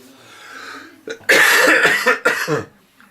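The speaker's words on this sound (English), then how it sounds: "Still coughing." Several harsh, chesty coughs close up from a person suspected of having cancer: a short one, then a longer drawn-out fit, then a final cough, with quiet breathing before.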